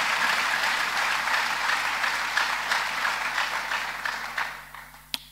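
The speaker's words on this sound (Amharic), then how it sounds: "ከፍ ያለ ልልታና ጭብጨባ ለእግዚአብሔር ሃሌሉያ" At a church youth jubilee celebration in Hosaena, a crowd claps loudly and steadily, the applause gradually thinning and fading, ending with a sharp single knock; no clear ululation stands out.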